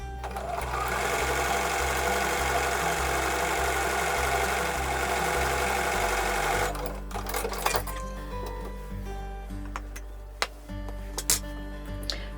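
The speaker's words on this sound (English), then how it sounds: "So I'm going to sew these right sides together with a 1/4 inch seam." A sewing machine stitches quilt block pieces right sides together with a quarter-inch seam, a steady close mechanical whir for about six seconds that then stops, leaving quieter handling clicks and taps.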